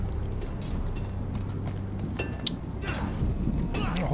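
Horse hooves in the Telltale Game of Thrones video game, a steady clip-clop of a horse at a walk, fairly close, with a brief muffled voice near the start.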